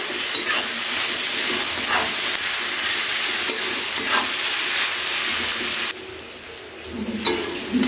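Onions fry in a pan until light brown for a fish-head chhyachra, giving a loud, continuous close sizzle with bursts from stirring. It drops noticeably quieter near the end.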